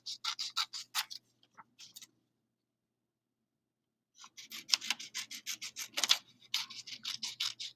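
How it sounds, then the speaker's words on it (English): Scissors cutting paper along lines, a run of quick, crisp snips and rustles, then a pause of silence before a second longer burst of close, rhythmic cuts, with no talking. "I turn the paper when I'm cutting, not my hand. My hand always stays straight. I'm trying my very best to cut right along the lines."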